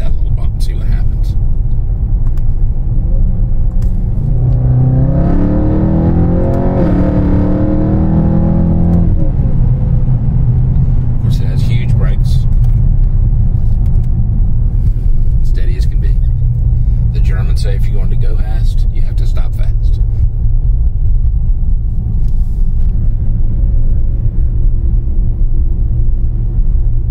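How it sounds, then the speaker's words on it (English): A 2018 RENNtech-tuned Mercedes E63s wagon engine surges in a loud rising rev run with exhaust roar, then settles into a steady interior cruising rumble, with someone talking afterward. "that was in the quiet exhaust mode too, so let's give that a little bump and see what happens"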